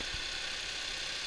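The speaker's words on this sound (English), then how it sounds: "Start it up and listen. Ideally, a cold start is the best way for checking an engine." A 2012 Audi A7 engine running just after start-up, a steady faint idle hum with an even low rumble and a brief low thump at the start, no talking.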